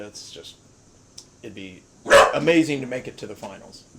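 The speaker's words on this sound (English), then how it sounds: "Apologize for the background noise with the puppies." Puppies bark and yip in the background behind someone speaking up close, the bursts coming in a loud cluster midway through and continuing intermittently under his voice.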